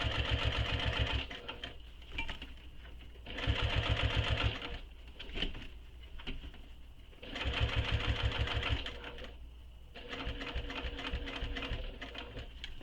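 A sewing machine stitches a crossbody bag in four short, rapid mechanical runs, each a loud whirring chatter separated by quieter pauses while the bag is shifted and pivoted.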